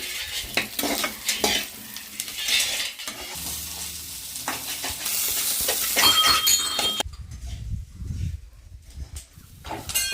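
Coconut pieces and green chillies lightly frying in a pan and stirred: steady crackling sizzle with scraping spoon strokes and light clinks, then settling into a quieter, softer fry for the last few seconds.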